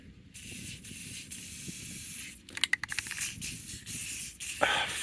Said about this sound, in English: I'm so tired of shitty spray paint.